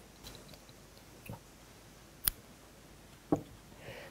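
Scissors snip crochet yarn at close range, two or three short crisp clicks spaced apart against a quiet background.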